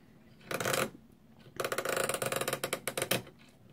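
The boost control on a Horstmann Economy 7 immersion heater timer gets switched with a short mechanical click, then a quick run of ratcheting clicks and rattles from the dial, close and alone.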